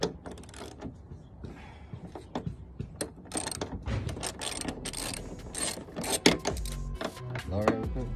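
Socket ratchet clicking on hood bolts during a Duraflex ZR hood install on a 1997-2004 C5 Corvette, rapid irregular ratcheting and metallic clatter up close, with people talking at times.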